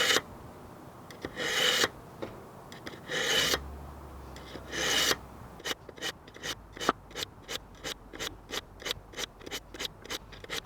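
A Japanese kitchen knife is ground on the coarse side of a whetstone, first with a few long slow rasping strokes and then with a quick run of short, sharp scraping strokes, close and alone.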